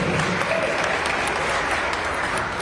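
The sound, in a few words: audience applause at press conference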